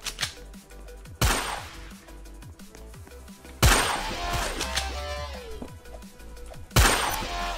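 Gunshots in the Roblox game Murderers vs Sheriffs: three loud, sharp game gun blasts spaced a couple of seconds apart, each with a bright crack and short ringing tail over a steady background game soundtrack.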